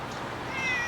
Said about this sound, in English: Meow? Do you say meow?